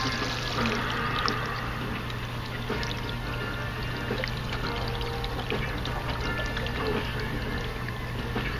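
Wastewater pours steadily from an R-POD 179 travel trailer's black tank through a sewer hose, a continuous rushing, gurgling flow with a low hum that stays even throughout.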